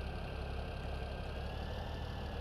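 Tractor engine idling in the video game Farming Simulator 17, a steady low rumbling drone that holds even and unbroken throughout, moderately loud with no voices over it.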